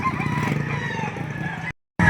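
Rooster crowing close by at a chicken market in Lipa City, Batangas, one long loud crow that cuts off abruptly, followed by a brief restart.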